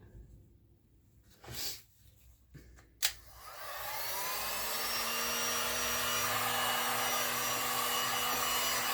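A heat tool warms poured resin paint, starting after a few quiet seconds and light knocks as a steady blowing whoosh that holds loud and even to the end.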